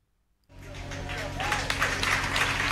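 An audience breaks into applause for a speaker, a sudden swell of dense clapping that starts after near silence and builds into a steady loud roar with voices mixed in.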